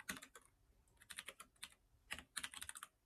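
Fast clattering keystrokes on a computer keyboard while Python code is typed, arriving in quick irregular clusters with short gaps, close and fairly quiet.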